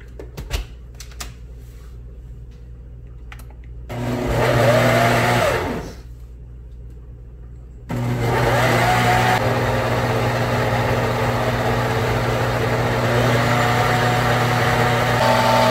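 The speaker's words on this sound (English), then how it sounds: "We're gonna blend this up. My blender has puree option." Kitchen blender pureeing menudo ingredients, its motor starting with a short loud burst, pausing, then running again in a steady, loud, continuous whir with no talk over it.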